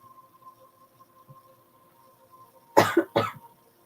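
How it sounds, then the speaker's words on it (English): Two quick, close coughs from a sick person break a quiet room with a faint steady hum. "I'm coughing like every 2 minutes"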